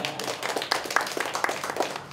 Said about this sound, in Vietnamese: Xin được biểu hiện niềm vui này bằng một tràng pháo tay thật giòn giã